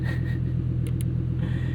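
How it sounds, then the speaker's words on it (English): A 2023 Lamborghini Huracán Sterrato V10 rumbles steadily from inside the cabin during a canyon and highway drive, a constant loud low drone with no talk over it. "just so we can hear that V10"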